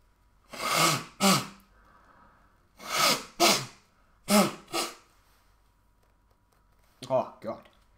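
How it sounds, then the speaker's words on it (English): A person sick with a cold sneezes several times, in quick paired bursts with sharp inhales and nasal blasts, close to the microphone, separated by short pauses of quiet. "Excuse me for a second, I'm gonna have to sneeze."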